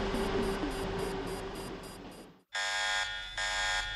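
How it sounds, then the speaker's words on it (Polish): Alarm signals sound in a control room: rapid repeating electronic beeps over a noisy hum, a sudden break into silence, then a harsher, louder buzzing tone pulsing in long bursts. "Pokój kontrolny wciąż migotał na czerwono od sygnałów alarmowych"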